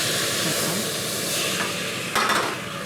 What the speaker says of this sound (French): je vais déglacer un tout petit peu au vin blanc